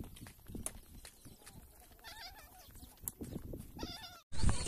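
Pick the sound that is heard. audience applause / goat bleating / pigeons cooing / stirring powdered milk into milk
goat bleating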